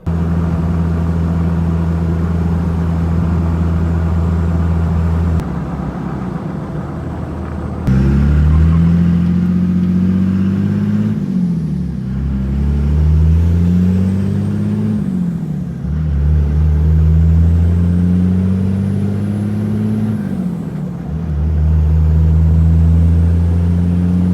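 A 6-speed Cummins truck driving on the road, its loud diesel engine rumbling steadily and rising in pitch through repeated gear changes, heard close up from inside the cab with no talking.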